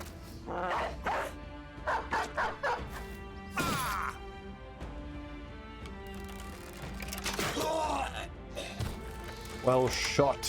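Dogs bark in the middle of a battle in the video game Battle Brothers. Short barks and growls come amid clashing hits and crashes, with voices speaking throughout.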